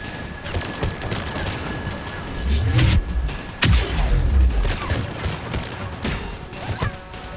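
Gunfire in a Mass Effect 3 firefight, a dense fusillade of shots with heavy thuds and crashes in the middle, steady and loud throughout with no voices.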